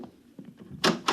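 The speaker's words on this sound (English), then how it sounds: "Close the door on your way out." An interior door closes in an old 1955 NBC radio drama, a soft shuffle followed by two sharp broadband knocks of the latch and frame shutting, close and brief.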